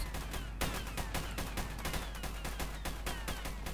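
Rapid bursts of video game gunfire crackle continuously, dense and loud throughout, with overlapping shots and no clear pauses.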